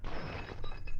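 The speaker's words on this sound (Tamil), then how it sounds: "கிளாஸ் உடைஞ்சிருச்சு" A glass breaks indoors in a family home, a dense one-second shattering crash of broken pieces that stays loud throughout, with no voices over it.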